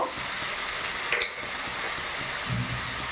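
A steady sizzle of a paste of onion, garlic, ginger and green chilli with cumin, turmeric and Kashmiri chilli powder frying in a pan, a continuous crackling hiss with a brief scrape of stirring.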